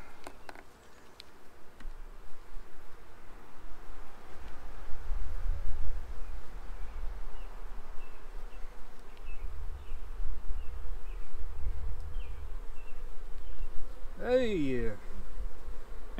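Bees hum steadily at a hive during a swarm check, a dense, continuous close-range buzz with a low drone throughout and a brief louder flyby near the end.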